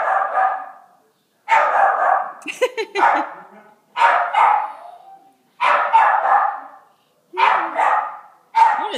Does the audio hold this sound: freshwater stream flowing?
no